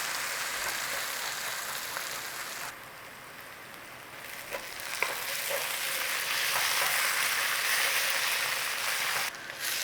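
Onions that were first boiled and steamed, now browning and caramelizing in a pan for a chicken French onion soup, giving a steady close hiss of frying with a few soft clicks of stirring.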